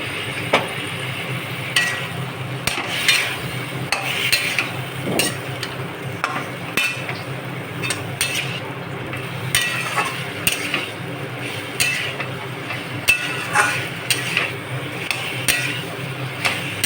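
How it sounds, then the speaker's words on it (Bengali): Ginger, green chilli and tomato paste sautéing with a little water in a pan, with steady clinks and scrapes of a utensil stirring against the pot over a faint background bubbling. "দিয়ে অল্প একটু জল দিয়ে এটা ভালো করে এবার সাঁতলাবো।"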